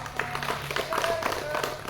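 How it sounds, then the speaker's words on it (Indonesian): Children in a primary school physical education volleyball lesson clap together on cue, giving soft, scattered claps in a loose rhythm, heard faintly beneath a teacher's voice and other background chatter. "Oke, tepuk tangan dulu"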